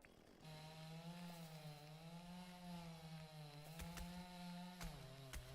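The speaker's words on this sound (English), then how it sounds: "I'm gonna kill you with this chainsaw" A video game chainsaw drones steadily at idle with a buzzing, wavering engine tone, alone and fairly quiet, with a few short clicks near the end.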